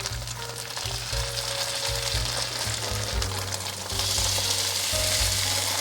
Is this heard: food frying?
yes